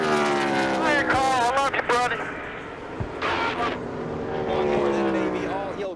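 NASCAR race cars at Kentucky, including Carl Edwards' unsponsored 99 Ford, with engines droning and passing under continuous excited commentary that covers most of the sound.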